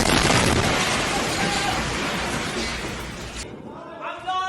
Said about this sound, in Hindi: लाइव टीवी शो के दौरान यह धमाका होता है